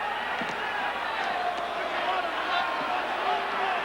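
A boxing arena crowd in Sacramento roars steadily at a fight, a broad, continuous murmur and cheer with occasional thuds, heard at a distance beneath a commentator's voice.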